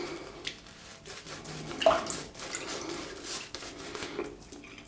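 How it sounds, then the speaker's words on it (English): Water trickles and drips onto a Semogue 830 shaving brush, a soft, close, splashy sound with a brief louder splash in the middle. "I'm just going to add a little bit of water to this."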